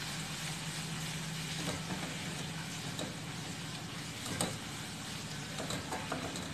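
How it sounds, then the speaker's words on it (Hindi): Ground spices (coriander powder, turmeric, red chilli) sizzle steadily in hot oil in a pan for jackfruit curry, a continuous dense crackle with faint stirring scrapes and no speech. "एक दो सेकंड के लिए हम इसे भूनेंगे।"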